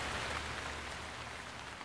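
Rain falls in The Legend of Zelda: Breath of the Wild as a dense, even hiss of drops on the ground, steady and unbroken throughout with no voices.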